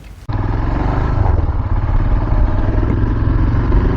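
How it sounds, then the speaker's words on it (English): A Royal Enfield Himalayan BS6 motorcycle, cold started and riding, gives a loud, steady single-cylinder engine drone with mechanical clatter. It begins abruptly after a brief quiet moment and keeps running continuously without any talk. "Yeah, so we just cold started the bike and now we are moving."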